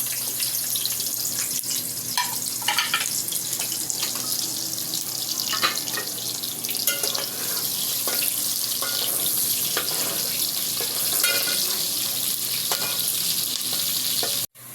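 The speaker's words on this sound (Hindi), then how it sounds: "इसके बाद हम प्याज लेंगे और प्याज को ब्राउन करेंगे" Onions fry and sizzle in a pan for a Pakistani arbi baingan dish, a steady loud hiss with scraping stirs and clinks of a spoon against the pan throughout, no voices.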